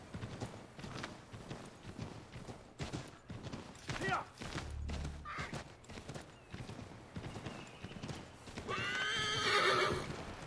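Hooves clop along at a steady pace, then a horse lets out a loud, high neigh near the end; muffled game-like effects sit underneath, in Assassin's Creed 3.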